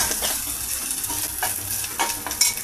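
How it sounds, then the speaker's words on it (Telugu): Onions, ginger-shallot paste, cocoa powder and green chillies frying in a pan, a close, steady sizzle with a few sharper crackles and stirring scrapes, no talking. "కోకో పౌడరు, పెద్దల్లిపాయ పీసెస్, పచ్చిమిర్చి అన్నీ ఈ విధంగా ఫ్రై అవుతున్నాయండి."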